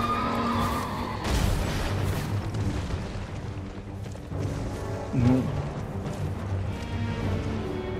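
A horse in the video game Elden Ring lets out a whinny amid game effects, including deep booming impacts and rumbles, with a short neigh-like burst near the end.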